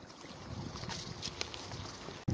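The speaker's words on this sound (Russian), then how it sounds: "Ну, конечно, ветер, порывы ветра" Warm spring wind gusts buffet the microphone high in the mountains of Romania, a low rushing roar rising and falling, ending in a sharp close thump.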